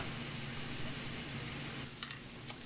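Shrimp cook in a sauce while being stirred, a quiet steady sizzle with faint scraping, and a few light clinks near the end.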